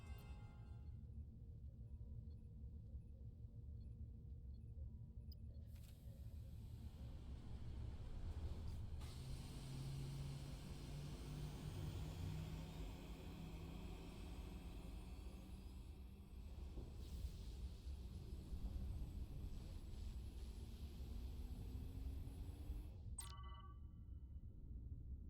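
Shuttlecraft lifting off in the video game Star Trek: Resurgence, a steady low engine roar with a rising whine that swells midway and cuts off near the end, heard alone.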